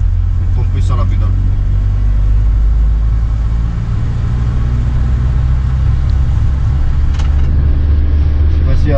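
An abandoned BMW E36's engine hums low and steady up close, its deep rumble shifting slightly in pitch as it slows by downshifting, with no working brakes, and a few faint clicks over it.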